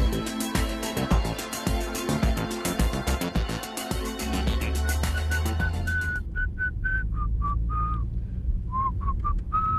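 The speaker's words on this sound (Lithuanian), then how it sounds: "Baik švilp, trukdai susikaupti." A person whistles a tune in a series of short, clear notes that start after about six seconds over a busy background of layered rhythmic sound, then carry on alone with brief pauses.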